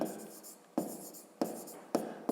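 A number written by hand, pen strokes scratching in four short, close bursts, each starting with a sharp tap and then fading.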